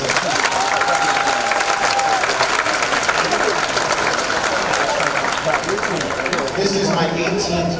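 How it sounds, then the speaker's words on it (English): Parents and audience at a middle school graduation ceremony applaud the teachers, a dense, steady wash of clapping from a large crowd that carries on throughout, with scattered cheers and voices mixed in. "Parents, please give our teachers a round of applause."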